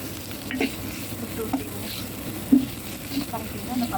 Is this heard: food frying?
yes